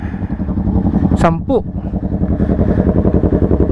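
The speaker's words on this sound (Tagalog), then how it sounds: "Ito yung mga motor namin." Cafe 400 bobber and other motorcycles idling together at a lakeshore stop in Batangas, a steady low throbbing chug throughout, with a person speaking over the engines.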